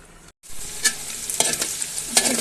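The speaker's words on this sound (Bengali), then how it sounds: "ফ্রাইড রাইস রান্না করব চাইনিজ স্টাইলে" Chinese-style fried rice with capsicum, carrot and egg being stir-fried in a pan: loud close sizzling with repeated spatula scrapes and clatters after a brief silent gap, no voices.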